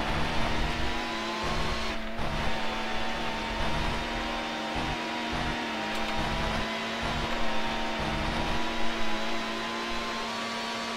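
A racing car engine in Need for Speed: Hot Pursuit 2 drones and whines steadily at high revs, with small shifts in pitch, continuous and fairly loud with no voices.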